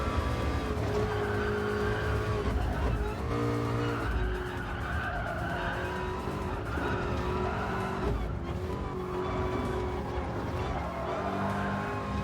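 A Ford GT40 being driven hard through a corner in Gran Turismo, with a steady engine drone and squealing, skidding tyres that last throughout and stay loud and close.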